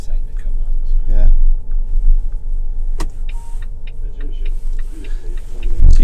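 An electric truck signals a left turn with a series of clicks over a low cab rumble, with a brief whir partway through and a heavier thump near the end.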